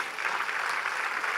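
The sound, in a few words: audience clapping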